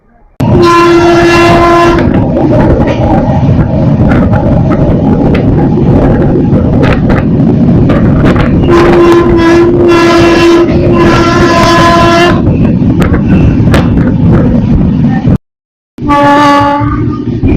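A loud passing express train, the Aranyak Express, rumbles past close by with clattering wheels, its horn blaring in several long blasts, the last after a short break.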